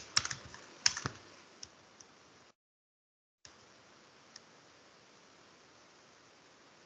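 Typing on a computer keyboard while entering a short phrase: a quick cluster of crisp key clicks at the start, then a pause, and a few isolated taps afterward over faint background hiss.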